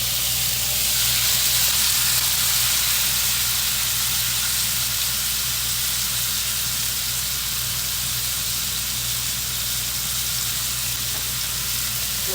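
Carne asada in a hot pan, a loud steady hiss of frying meat and steam that holds constant throughout with a low hum underneath.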